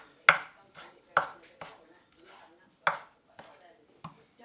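A knife chops Thai beef salad ingredients on a board, several sharp, separate thuds at an uneven pace with quiet gaps between them.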